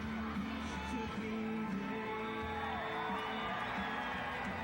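A college gymnastics arena crowd at a women's meet between Florida and Utah keeps up a steady roar of cheering and shouts throughout, with sustained tones running underneath.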